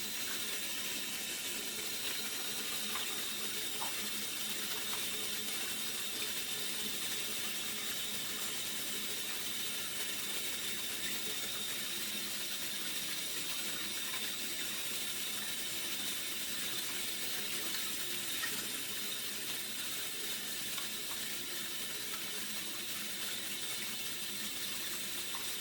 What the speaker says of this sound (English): Wetting all surfaces of my hands and wrists. Applying my soap and lathering for 20 seconds.